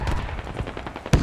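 Rapid gunfire in the Squad military shooter, a fast burst of close, loud shots in quick succession, capped by one sharp, heavy report at the end.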